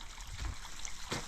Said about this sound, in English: I got a bit of a river going on here. I forgot to turn off the water in the tank.